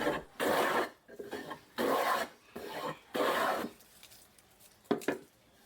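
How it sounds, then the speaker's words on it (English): Hand plane strokes shaving wooden pallet table parts, four long rasping passes in steady rhythm, each about a second, close and loud, followed by a couple of brief quieter scrapes. "we can get to work planing the other parts."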